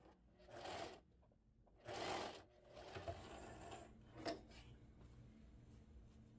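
A sewing machine runs in short stitching bursts through fabric while a cloth tabletop scarecrow candy holder is made, the motor whirring up and down in several runs with pauses between.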